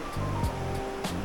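Outdoor waterfall at a remote campsite reached on a four-wheel-drive trip, a broad, continuous roar of falling water with a few brief thumps and clicks nearby.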